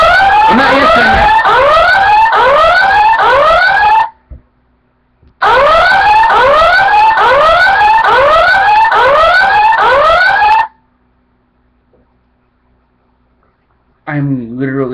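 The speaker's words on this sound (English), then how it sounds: "I'm literally going to break that alarm" A loud electronic alarm repeats rising whooping tones in fast succession, stops, blares again for several seconds, then falls silent before a voice speaks.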